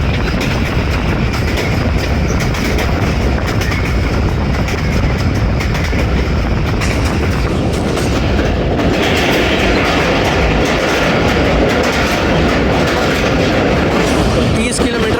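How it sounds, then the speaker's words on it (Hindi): The Hazara Express rolls slowly under a speed caution into the Suhawa tunnel. A loud, continuous rumble and clickety-clack of wheels on rails fills the scene, and the tone shifts as the train enters the tunnel. "सुहावा टनल में इंटर हो रही है ट्रेन।"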